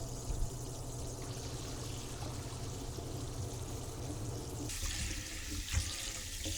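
Raw chicken is rinsed under a running kitchen tap, with a steady hiss of flowing water that shifts brighter partway through as the stream hits differently, plus a couple of soft knocks.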